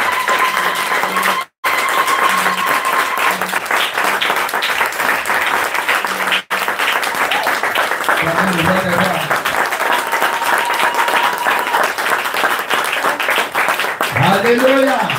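Church congregation applauding and acclaiming during a French-language service, sustained dense clapping and crowd noise throughout with voices mixed in, steady and loud.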